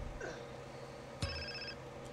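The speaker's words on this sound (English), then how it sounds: "Oh, another phone call." A telephone rings in Grand Theft Auto San Andreas Definitive Edition, a short electronic ring sitting over steady in-game background tones, moderately loud.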